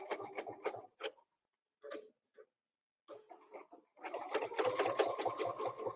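A home sewing machine stitches forward in short bursts of rapid needle chatter, separated by brief pauses. A longer run of steady mechanical clatter follows, close and moderately loud, with no talking.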